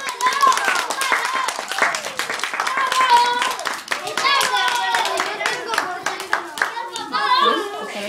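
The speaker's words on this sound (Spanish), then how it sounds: "aplaudir." Children clap their hands in quick rhythmic bursts during a storytelling session about Goldilocks and the three bears, the crisp claps close and loud and mixed with children's and an adult's talking throughout.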